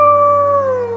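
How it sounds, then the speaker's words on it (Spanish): A single long howl rings out in a forest at night, a steady sustained tone that slowly slides downward in pitch, loud and clear with no talk over it. "se escucha un aullido."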